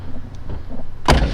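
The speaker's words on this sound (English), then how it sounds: "Again, that door shuts wonderfully." Door of a 1979 Pontiac Trans Am T-Top shuts with one solid, close thud at the end, after a second of quiet rustling handling.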